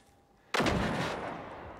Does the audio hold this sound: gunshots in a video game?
yes